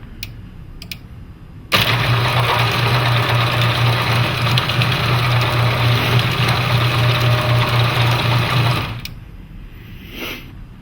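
Moore-O-Matic opener motor driving a cog and belt, running steadily for about seven seconds with a strong low hum and mechanical whir, starting abruptly and winding down at the end.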